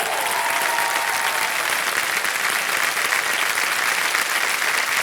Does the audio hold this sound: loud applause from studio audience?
yes